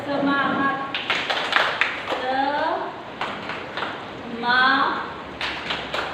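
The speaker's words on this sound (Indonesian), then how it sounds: "Jadi kita akan sama-sama tepuk semangat." A group in an Indonesian school activity claps a rhythmic spirited cheer, sharp hand claps falling in short patterned bursts amid voices chanting and talking.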